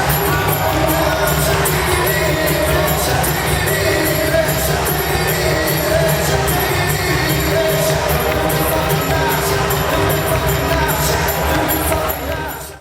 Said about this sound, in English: The crowd was waiting for Barack Obama.